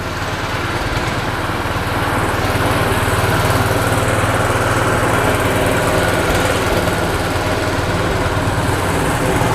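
A candlenut (kemiri) cracking machine runs continuously, a steady loud motor drone with a dense rattling churn, close and unbroken throughout.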